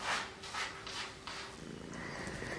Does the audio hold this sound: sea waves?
no